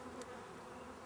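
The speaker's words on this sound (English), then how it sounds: "There are an enormous amount of bees in the hive" Bees in a very populous hive, one carrying disease, hum in a dense, steady drone, close and continuous, with no voices.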